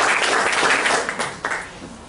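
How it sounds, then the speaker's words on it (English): Applause from a sizable crowd, a dense burst of clapping that holds steady and then thins and fades out after a couple of seconds. "give yourselves a round of applause for that"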